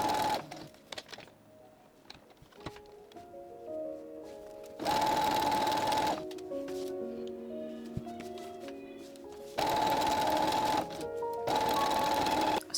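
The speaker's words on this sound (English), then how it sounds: "I'm going to baste along the seam and then I'm going to serge it" A serger sewing machine stitches a seam on a dress panel in short loud whirring bursts, separated by quieter stretches of fabric handling and faint clicks.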